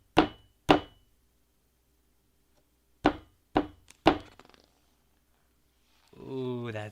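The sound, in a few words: knocking on a door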